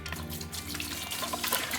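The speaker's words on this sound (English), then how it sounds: "So water goes in to the maximum fill-up line." Water is poured into a countertop nugget ice maker up to the maximum fill line, a steady splashing gurgle at moderate loudness with no voices.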